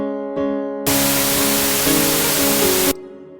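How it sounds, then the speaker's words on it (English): Bright synthesized white noise layered over sustained synth chords in a music production, bursting in abruptly, holding steady and loud for about two seconds, then cutting off to leave the chords ringing. "I'm just going to write this white noise all the way across the MIDI clip."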